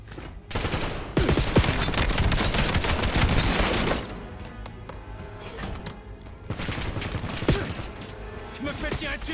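Heavy gunfire in Call of Duty Black Ops 7, with dense bursts of automatic fire and shotgun blasts during a submarine-base fight. The shooting is loud and sustained, eases briefly partway through, then resumes in bursts under occasional game chatter.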